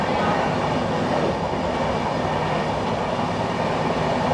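Howrah–Dhanbad Black Diamond Express with new LHB coaches runs along the line, heard from inside as a loud, steady broadband rumble with faint wheel clatter, continuous and unbroken with no talking.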